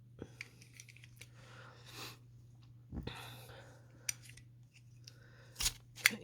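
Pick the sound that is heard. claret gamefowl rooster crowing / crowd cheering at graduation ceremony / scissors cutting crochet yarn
scissors cutting crochet yarn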